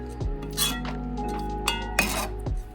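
A spoon stirs freshly washed rice in a metal pot for Jamaican rice and peas, clinking and scraping against the sides in several sharp taps, close and fairly quiet.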